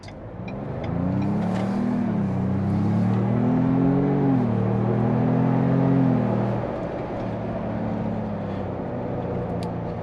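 A 2023 Ford Bronco Outer Banks engine hums steadily while driving, its pitch rising and falling with gentle revving, loud and close, then easing to a lower drone.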